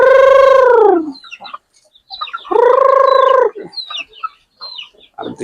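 Hens and a rooster on a small backyard farm, two long drawn-out crowing calls separated by scattered close clucks and short squawks.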